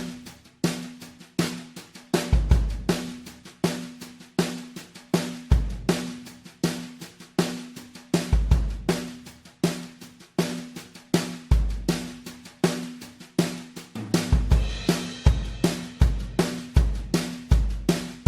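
A drum kit processed through a compressor set to slower attack and release plays a steady groove of punchy kick and snare hits, each with a quick swell and decay, moderately loud with no talking.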